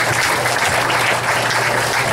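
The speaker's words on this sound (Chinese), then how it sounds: "那我们就这个热烈掌声欢迎李部长" Warm, dense applause fills a lecture hall as a minister is welcomed to speak at a university forum, loud and continuous from start to finish.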